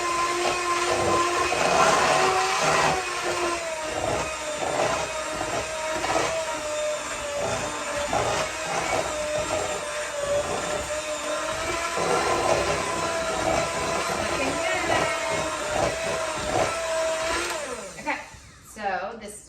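An electric mixer whirs steadily as it beats chocolate cupcake frosting with powdered sugar and vanilla, a continuous motor drone with slight changes in pitch, winding down near the end, while a person speaks over it.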